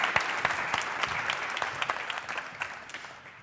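Light applause from the audience at a public broadcaster's annual public meeting, moderately distant, with scattered claps that thin out and fade toward the end.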